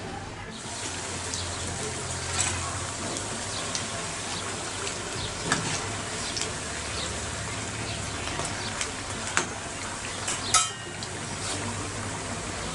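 A batch of Mysore bonda frying in hot oil hisses and bubbles steadily and fairly loudly, with small crackles and pops scattered through the continuous sizzle.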